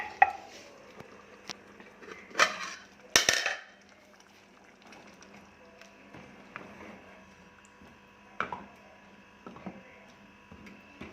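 Curry being stirred in a pot, then a ladle lifted out from among washed dishes, with scattered metallic clinks and clatters, a louder cluster of knocks near the start and a few lighter taps later over a low hum.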